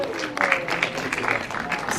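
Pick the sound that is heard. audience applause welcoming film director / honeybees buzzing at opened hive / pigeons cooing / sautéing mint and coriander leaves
audience applause welcoming film director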